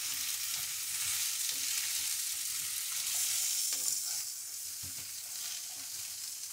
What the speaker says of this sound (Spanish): Lo voy a revolver.